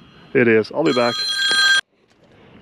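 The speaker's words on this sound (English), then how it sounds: "Yep, that's my phone." A mobile phone rings at an upper-level ICF concrete pour site built with Nudura block and Plumwall bracing, a bright sustained ring heard just after a short burst of nearby speech, then cutting off.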